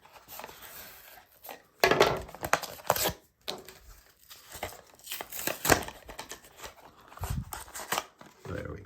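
A cheap $5 Walmart knife slices and tears into the plastic packaging of fixed blade knives, a run of close crinkling, ripping and cutting bursts with short pauses between strokes.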